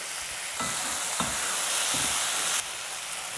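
Tomatoes and onions sautéing with a pinch of salt in a pan for an agathi keerai stew, a steady close sizzle broken by a few soft stirring scrapes.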